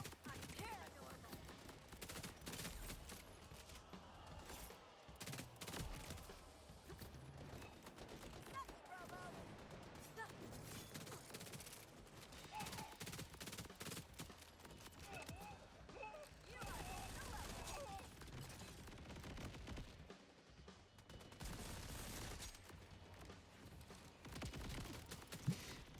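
Rapid gunfire from weapons in the video game Borderlands 4 comes as dense, continuous bursts of shots layered with game effects and music, loud throughout, with a player's voice talking over it at times.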